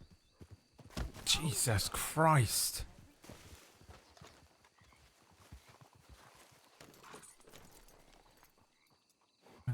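Horse hooves clip-clop in a video game, set in a Western-style world, audible beneath loud, excited talk from several voices, with brief whinny-like calls mixed into the busy soundscape.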